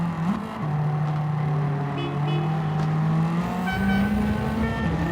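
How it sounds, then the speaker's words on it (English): Ferrari GTO engine in Gran Turismo 7 racing, holding a steady loud drone that rises in pitch with acceleration, with a brief dip and shift near the start and another climb later, close and continuous with no talk. "That GTO sounds stunning."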